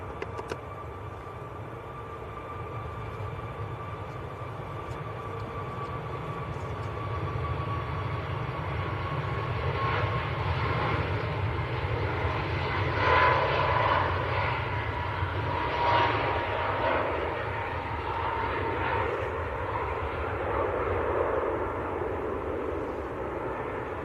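A Ryanair airliner departing Manchester Airport for Barcelona, a broad distant engine roar that swells gradually and holds steady over about twenty seconds.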